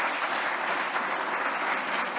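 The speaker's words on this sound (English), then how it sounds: "Can we get another big round of applause for Blair and Dawn?" Steady audience applause after a talk at a book event, dense and even, with many hands clapping continuously throughout.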